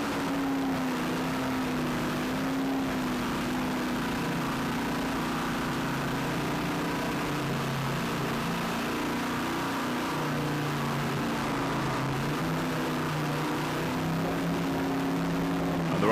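Racing powerboat engines drone from a distance during a 1997 Skater powerboat race, a steady layered hum with slowly shifting pitch as several boats run together.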